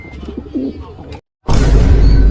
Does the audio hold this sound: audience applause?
no